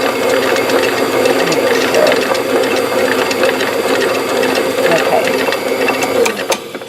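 An electric mixer beats a thick peanut butter ball mixture with a steady, close whirring drone and slight rhythmic fluctuation throughout.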